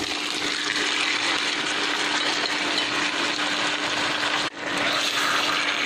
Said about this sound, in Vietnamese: Tỏi vàng thơm rồi, giờ mình sẽ cho gà vào.